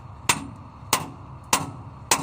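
Four sharp metallic hammer strikes on the brake parts of a Scania eight-wheeler tipper truck ring out at steady intervals, each a loud clank with a brief ringing tail, no talking.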